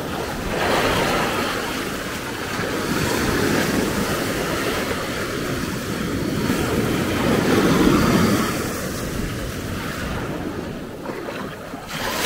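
Atlantic surf breaking on the shore at Maspalomas, Gran Canaria, during a storm, a loud, continuous roar and wash of water heard close up, swelling and easing with wind noise on the microphone.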